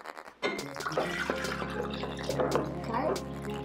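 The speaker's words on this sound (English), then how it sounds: "we have to put the water in" Water is poured into a plastic bottle for a homemade tornado experiment, a close splashing gurgle with rising bubbling that runs steadily for a few seconds.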